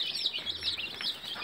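A brooding hen with her chicks under a red heat lamp, heard as a soft, close run of clucks and high chirping that continues for a moment without any voices.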